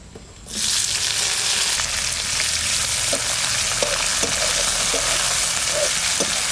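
Bay leaf, dried chillies, cumin, whole garam masala and chopped onion hit hot oil in a kadai with a loud, steady sizzle that starts after a brief quiet moment and carries on, with occasional light clinks.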